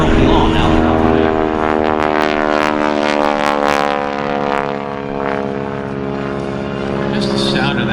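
A P-51 style propeller warbird powered by an Allison engine roars overhead at the Columbus airshow, a loud, sustained droning growl that rises and dips slightly as it passes, with an announcer talking over it.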